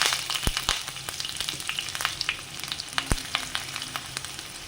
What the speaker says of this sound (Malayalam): ആവശ്യത്തിനുള്ള വെളിച്ചെണ്ണ ഒഴിച്ച് കൊടുത്തു പിന്നെ അതിലേക്ക് ഒരു സവോള വെളുത്തുള്ളി ഇട്ട് കൊടുക്കാം